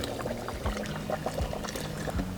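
Water pours into a cooking pot for Budhel-village drinking khichdi, a steady close gush with a few surges and splashes running through the whole short stretch.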